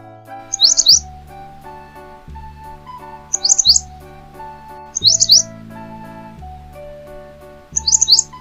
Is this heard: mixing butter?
no